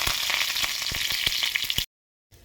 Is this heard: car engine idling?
no